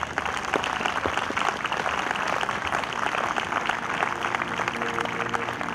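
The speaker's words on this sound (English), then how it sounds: "Give yourselves a round of applause." A crowd of volunteers at a veterans' event claps steadily at moderate loudness, with scattered individual claps standing out and a faint murmur of voices underneath.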